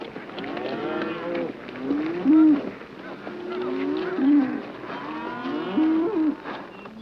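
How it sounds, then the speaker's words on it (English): A cattle herd is driven across grazing land in a film scene, with repeated drawn-out moos from several animals rising and falling over a steady background of hooves and movement. "Robards drives his cattle across James Caan's grazing land as the film's main battle begins to heat up."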